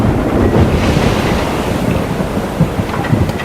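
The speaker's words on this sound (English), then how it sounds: "The typhoon exploded around them with dangerous power." Roaring storm wind and surging ocean waves of a typhoon at sea, a dense, steady wall of rushing noise with no break, loud and close throughout.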